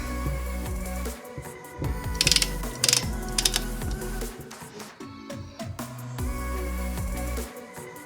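A click-type torque wrench ratchets and clicks while tightening bolts to 13 foot-pounds on a MKIII Supra (A70) power steering rack, with sharp metallic clicks in short bursts amid quieter mechanical handling, close up.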